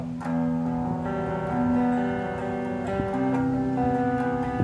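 A clean electric guitar through a Flamma FS06 preamp on its Two-Rock amp model rings out sustained chords and notes, bright and undistorted, playing steadily without any voices.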